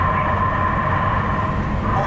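A Regional Connector metro train runs steadily on its first day of service from 7th Street/Metro Center in Los Angeles, a continuous close rumble with a faint tonal hum and no distinct clacks.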